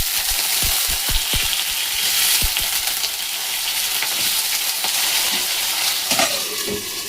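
Potatoes fry in a pan with bay leaf, panch phoron and chillies for cabbage khichuri, giving a loud, close, continuous sizzle with several sharp pops and clatters early on.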